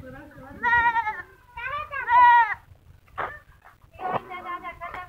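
A goat bleats in repeated wavering calls, three bursts spread across a few seconds, with short cries between them, while a cat follows the goat around outdoors.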